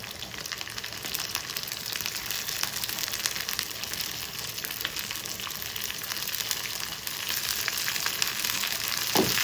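Curry leaves and shallots crackle and sizzle in hot oil, a continuous close frying hiss with scattered sharp pops throughout.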